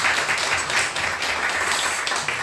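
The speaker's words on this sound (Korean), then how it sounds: "우리 축하해, 또 격려의 박수 우리 한번 기도의 박수." Congregation applause in a church service after a wedding and birthday celebration, sustained broadband clapping of many hands filling the room steadily for a couple of seconds, fairly close and even.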